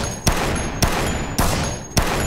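Gunshots ring out in the zombie video game Dead Rising, four loud evenly spaced shots about half a second apart over a steady background rumble, with no talk.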